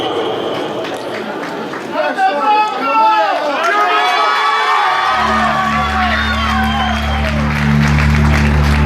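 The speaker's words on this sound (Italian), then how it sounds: "un bel applauso." A concert crowd claps and cheers loudly, with whoops and shouts rising over dense applause; low musical tones enter partway through and carry on beneath the continuing cheering.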